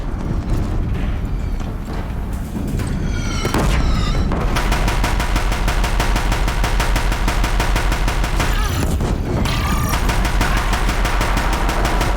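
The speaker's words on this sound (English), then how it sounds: "If the Deathbringers keep firing, this bridge will go." Deathbringer war machines firing on a bridge in Horizon Zero Dawn: a dense, continuous roar of heavy machine-gun fire and booming blasts, loud and unbroken throughout.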